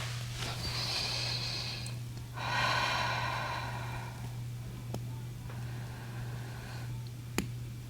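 Slow, deep breaths in a quiet room during a yoga hip stretch, each long airy inhale or exhale separated by pauses, faint and close, over a steady low hum, ending with a small click.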